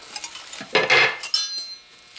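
A metal spoon clinks and scrapes against a bowl in a few quick, close, bright knocks with a short ringing tone after them.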